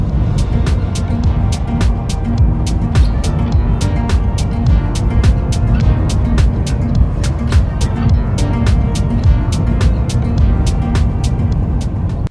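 Car interior while driving with a Bluetti power station plugged into the cigarette lighter, a steady low road and engine rumble with regular faint ticking clicks throughout, loud and continuous with no speech.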